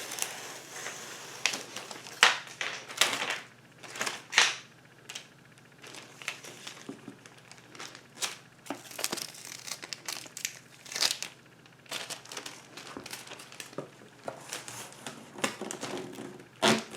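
Packing tape is pulled and pressed down to seal a cardboard return package, giving crackling, crinkling rips and scrapes in irregular bursts over a long stretch, close by and without speech.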